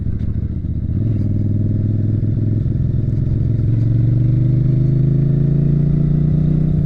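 A motorcycle engine hums steadily and loudly while riding, its pitch rising after a downshift into a lower gear, with constant road and wind rush and no talk.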